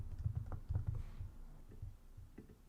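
Quiet typing on a computer keyboard, a quick run of soft key taps followed by a few scattered presses.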